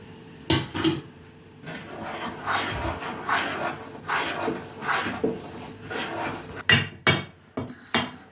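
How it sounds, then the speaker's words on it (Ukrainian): Scraping and knocking of a spoon against a bowl while mixing dough with melted margarine, irregular strokes with sharp clacks, fairly close and quiet. "ми замішали тісто ложкою, бачите? Ложкою мішали."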